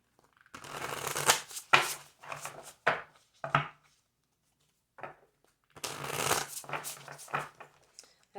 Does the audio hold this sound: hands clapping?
no